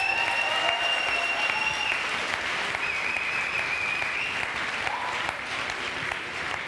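Applause from a choir festival audience for the sound engineer, a dense, steady clapping that fills the room from start to finish, with some faint tonal sounds over the top early on.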